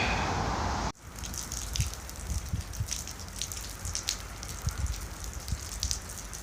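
Rain falling on a surface with scattered close drips and patters, steady and moderately loud after an abrupt cut from a brighter noise at the start.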